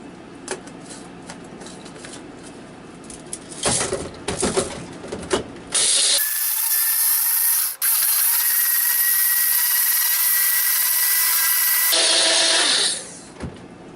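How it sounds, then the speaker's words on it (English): Repashy crested gecko food being ground into a fine powder, loud continuous whirring grinder running for several seconds, preceded by scraping and shuffling handling noises. "So I'm going to grind it a lot until it's a fine powder"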